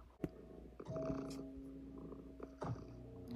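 A Minecraft cat purrs softly in short rumbling bursts with brief pauses between breaths, close and fairly quiet, with no talking over it.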